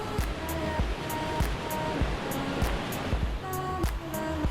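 A river in Angeles National Forest rushes steadily in a dense, even wash of flowing water, with a faint repeating tonal pattern layered over it.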